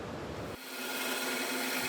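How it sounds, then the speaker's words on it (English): A center drill in a machine shop starts up and runs with a steady high whine, close by, with no voices. "So we're gonna run the center drill first."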